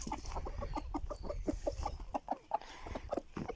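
Aseel chickens cluck nearby in a quick run of short, repeated calls, with a few louder squawks mixed in.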